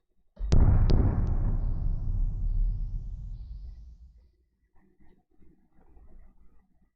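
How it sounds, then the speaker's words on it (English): A single heavy blast from a North Korean missile test launch booms out suddenly, then its deep rumbling roar trails off over several seconds before fading to near silence with faint scattered sounds. "Missile tests."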